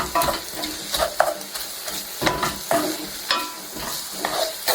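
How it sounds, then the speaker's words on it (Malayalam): Finely chopped garlic frying in a pan, a steady sizzle with repeated scraping and stirring strokes of a spatula at close range, no talking. "കുറച്ച് വെല്ലുള്ളി ചെറുതായി കട്ട് ചെയ്തിട്ട് കൊടുക്കാം. വെല്ലുള്ളി ഒന്ന് നന്നായിട്ടൊന്ന് മൂപ്പിച്ചെടുക്കാം"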